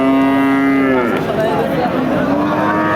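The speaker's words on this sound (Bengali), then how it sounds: "এই যে এক জোড়া গরু যশোর জেলার চৌগাছার হাট থেকে আপনারা দেখতে পাচ্ছেন।" Cattle at a village cattle market in Chaugachha, Jashore, give a loud, drawn-out moo close by, with faint market noise behind it.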